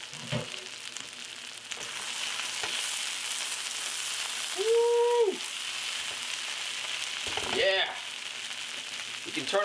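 A bacon skillet dish of a poor man's skillet sizzling and simmering in a pan, a continuous soft frying hiss at moderate distance with a few brief tonal sounds and knocks over it.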